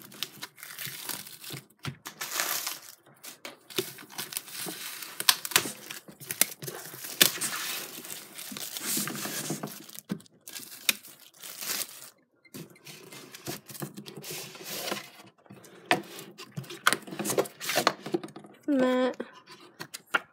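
Plastic wrap being cut and peeled off a Pokemon Elite Trainer Box, close crinkling and tearing in irregular bursts over about twenty seconds, with a brief voice near the end.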